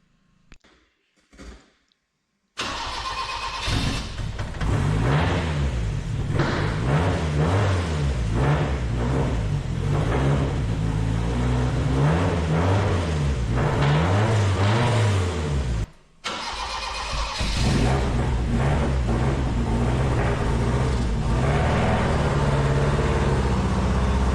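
A 1974 Toyota Celica TA22 that has sat unused cranks and catches, then runs roughly with an uneven, sputtering idle and occasional revs, loud and near, with one brief stumble midway.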